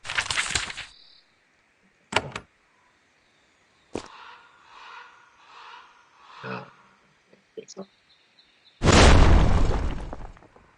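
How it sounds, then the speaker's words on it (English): Explosions in the fantasy strategy game Queen's Wish: The Conqueror: loud, sharp bursts open and close the passage, with smaller pops and crackles between them over faint game sound. "There is an explosion to the north."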